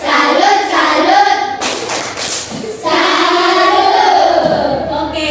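A school class performs a rhythmic clapping cheer, with bursts of sharp, sync hand claps and thumps breaking through the children's loud chanting voices.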